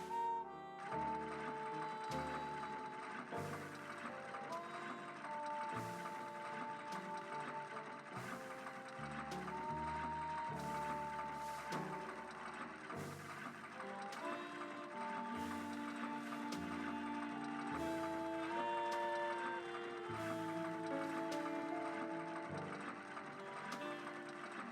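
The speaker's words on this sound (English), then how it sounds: "All I need is the dress Jim Archer gave me, and I can start sewing." Sewing a dress in the Nancy Drew game The Secret of the Old Clock, a steady mechanical clatter like a sewing machine running over a background musical score, continuous and fairly soft.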